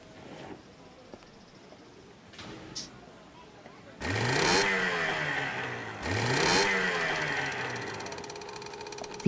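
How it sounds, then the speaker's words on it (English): Engine starts and revs in the Secret Files 2: Puritas Cordis adventure game. After a quiet stretch with light clicks, two loud rising rev bursts follow about two seconds apart and settle into a steady idle hum. "The engine works. That is good to know."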